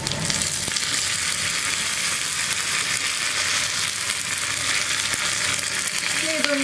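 Sliced onion, three dried red chillies and curry leaves fry in hot oil for a vellarikka parippu curry, giving a steady, close, even sizzle with faint scraping and clinking of a utensil near the end.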